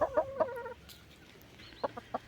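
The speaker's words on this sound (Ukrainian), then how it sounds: "Викопала цибулину кури почали розкльовувати її" Chickens clucking nearby in short, choppy bursts while pecking at a dug-up onion bulb, a quick run of clucks, a brief pause, then several more.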